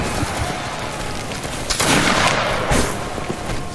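A musket volley from a Saxon fusilier line in a Napoleonic line-battle video game, a dense crackling burst of near-simultaneous shots followed by a second rolling report, loud and without talk.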